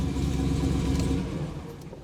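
A car with an LSA-swapped engine idles with a low, rough rumble before being shut off, the sound dropping away and fading in the final second.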